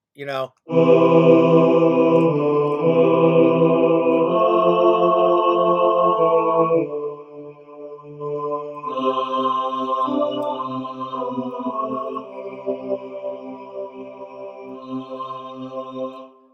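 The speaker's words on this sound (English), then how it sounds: "So if I'm working with a chamber choir here" A synthesized chamber choir loop in GarageBand sings sustained chords that shift every few seconds, full and loud at first, then softer and thinner toward the end.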